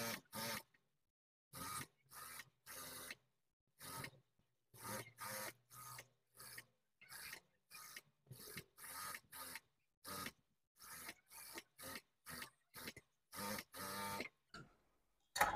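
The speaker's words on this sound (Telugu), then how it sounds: "స్టిచ్చింగ్ అనేది చేసేసుకుందాం." A sewing machine stitches a princess cut blouse in short, evenly spaced bursts of rapid whirring, each lasting about half a second with brief pauses between, close and clear with no talking.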